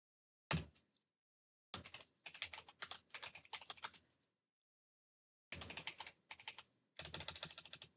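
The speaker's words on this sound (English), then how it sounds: "I'm typing up the explanation of what the things on the screen mean." Fast bursts of typing on a computer keyboard, close and crisp, in several separate runs of rapid clicks divided by short silences, with no voices.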